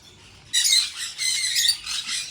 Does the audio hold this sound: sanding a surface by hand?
no